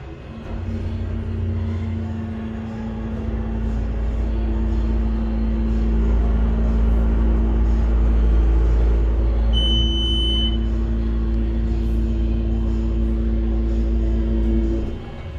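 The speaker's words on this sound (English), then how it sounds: "I listen to this motor. It's nice." A steady low mechanical hum from an MEI hydraulic elevator motor, low on oil, running continuously, with a faint high whine joining partway through.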